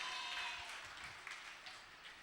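Audience applause at a children's Vacation Bible School event in an Infant Jesus church hall in Chennai, a steady continuous wash of clapping heard at moderate distance, without voices, fading slightly toward the end.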